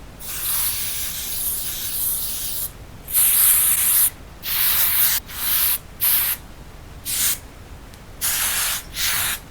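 Hairspray is sprayed onto hair: a longer steady hiss, then a series of several short, close, crisp spray bursts separated by brief pauses.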